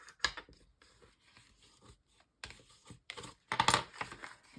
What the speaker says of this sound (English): I'm going to get my bone folder and just give it a good crease